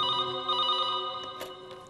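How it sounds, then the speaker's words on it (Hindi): A steady electronic telephone ring with a bright, sustained multi-tone pattern, close by, with a few faint clicks near the end. "कल सुबह अचानक ही राहुल का फोन आ गया।"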